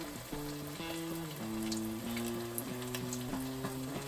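Beer-battered fish fries in hot oil, giving a continuous close sizzle with crackling bubbles and a few soft pops.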